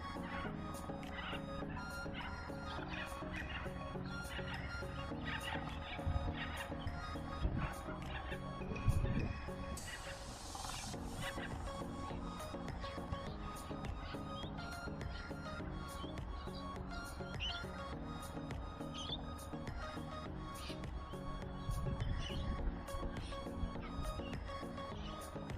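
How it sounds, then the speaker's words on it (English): Birds calling outdoors during an Emax Tinyhawk II drone flight, with scattered squawks and chirps over a constant motor drone and a brief louder whoosh midway, with no talk. "A few birds around today."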